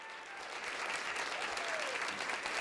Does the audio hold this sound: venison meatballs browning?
no